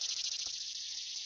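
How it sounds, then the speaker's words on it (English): Cicadas in the modded Minecraft FTB world buzz in a dense, pulsing high drone with a regular rapid rhythm, steady and moderately loud throughout, with one brief soft click partway through. "Cicadas?"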